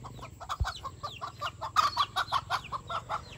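Chickens cluck in a rapid, steady series of short calls at close range in a rural village, with a brief low thump partway through and no talking.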